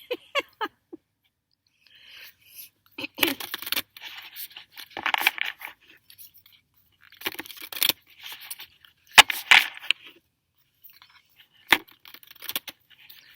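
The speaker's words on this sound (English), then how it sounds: "they didn't like the sound of shuffling cards" Intermittent riffling and soft slapping of tarot cards being shuffled nearby, in short bursts separated by quiet pauses.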